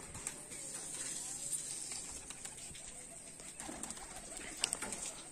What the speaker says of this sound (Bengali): আর এখানে কিছু মিক্সিং পায়রা আছে